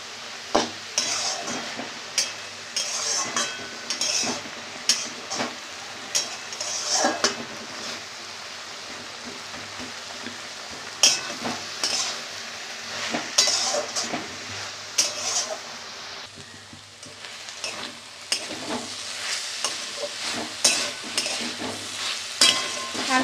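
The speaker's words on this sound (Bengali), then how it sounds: "শাক ভাজাটা আমার হয়ে গেছে দেখো।" Fenugreek greens with brinjal are stir-fried in a pan, soft sizzling under repeated scraping and clattering strokes of a spatula against metal, irregular and close.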